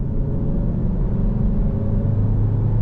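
A 2025 Hyundai i30 N Line 48V mild-hybrid accelerating at half throttle, with a steady low engine drone and road rumble heard from inside the cabin, even and moderately loud, with no talking.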